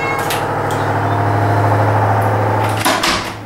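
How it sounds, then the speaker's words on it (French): A loud, steady mechanical drone of a washing machine running close by, with a thud and clatter near the end like a door closing. "C'est ma fameuse machine à laver qui repart dans l'espace."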